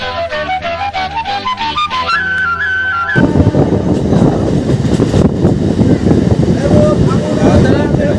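A Howrah to Bardhaman local train runs toward Pandua. A tonal, horn-like sound comes first, then a loud, continuous close rumble of the moving train with wind buffeting.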